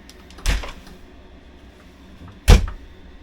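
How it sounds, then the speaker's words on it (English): Handmade cabinet doors in a 2023 Ford Transit van conversion are fitted in place, producing two separate close wooden knocks or thuds about two seconds apart over a quiet room. "So getting the doors fitted that we made."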